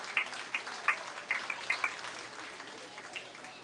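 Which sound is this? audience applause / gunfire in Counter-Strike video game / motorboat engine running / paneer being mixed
audience applause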